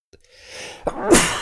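A single sharp sneeze from someone with a head cold, preceded by a faint sniffing inhale and building to a loud, breathy burst near the end.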